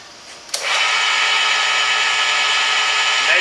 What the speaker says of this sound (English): We're going to go ahead and drill, and just get a starter position.